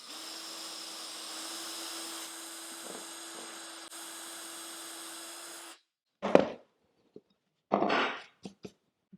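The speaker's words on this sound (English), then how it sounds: "I'm going to drill straight into the corner." A handheld drill boring straight into the corner of a wooden workpiece through a drill guide, heard as a steady motor whine for several seconds, then two short, loud bursts of drilling with a few brief knocks between them.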